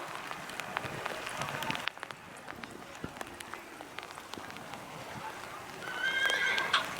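A horse working through an extreme obstacle challenge, with hoof clops and scattered sharp knocks over an outdoor background, a loud whinny near the end, and a person talking over it.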